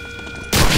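A single loud gunshot in the World War II shooter video game Medal of Honor: Allied Assault, breaking abruptly after a quiet humming half-second and booming close up.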